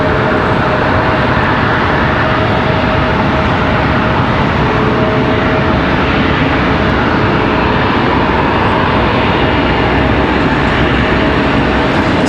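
A Delta airliner on the runway at Charlotte Douglas airport gives off a steady, loud, broadband jet engine roar that holds constant throughout, with no talk over it.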